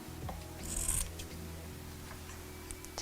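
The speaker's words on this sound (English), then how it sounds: "now I'm just going to cut off the corners so they're not bulky. So if I snip back here" Fabric scissors snip off the corners of a cushion cover being made into a tote bag: a few faint, close crisp cuts over a quiet room.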